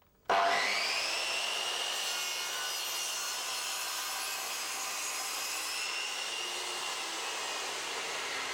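A powered saw on a Triton Workcentre makes a bevel cut in wood, starting abruptly into a loud, steady high whine with a rasping bite through the timber that holds level for the whole stretch, close and without talk.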